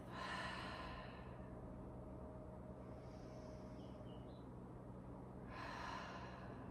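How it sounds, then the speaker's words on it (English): Slow, gentle breaths drawn in through the nose and let out through the mouth during a seated beginner yoga reset, a soft airy exhale at the start and another near the end, close and quiet with no talking. "Breathing in through the nose and exhaling out the mouth."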